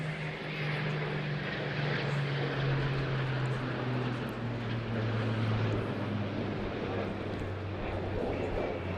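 An RAF Typhoon jet and a Spitfire fly an airshow display at Eastbourne, heard as a continuous engine drone with slowly drifting pitch from aircraft some distance away.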